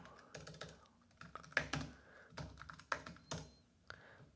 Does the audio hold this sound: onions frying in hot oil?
no